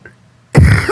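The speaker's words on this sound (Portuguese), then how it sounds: "Desculpa, eu tô com uma tosse." A woman clears her throat and coughs during a calm conversation, one loud close burst after a faint lead-in.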